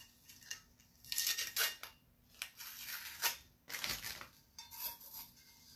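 Tape being peeled off a sublimation cup, heard as a series of sharp crackling rips and tearing bursts at close range, with no talk.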